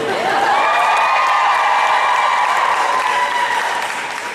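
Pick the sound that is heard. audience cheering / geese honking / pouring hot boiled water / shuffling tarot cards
audience cheering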